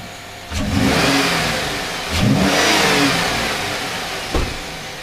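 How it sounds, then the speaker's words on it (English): A Chevy Tahoe engine rises from a low idle into two strong revs, each swelling loud and holding before easing back down, with a brief blip near the end; close and clear, no talking. "Let's rev it up real quick, see if it reacts."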